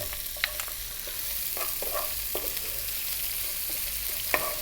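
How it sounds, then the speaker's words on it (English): Curry leaves and onion fry in a pan with cumin seeds over heat above medium, giving a steady close sizzle with scattered sharp pops and crackles and occasional stirring. "the heat is on above medium, and to that I'm going to add the curry leaves. And now our onion."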